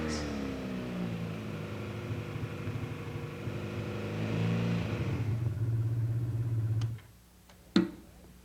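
A motorcycle engine runs after a valve job, holding a steady idle that rises and revs before cutting off, followed by a couple of sharp mechanical clicks.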